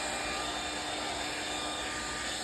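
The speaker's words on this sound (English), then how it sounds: "With the hair dryer, the material will dry in just a couple of minutes." A hair dryer blows with a steady, close rushing hiss and hum, unchanging throughout, drying freshly dyed leather.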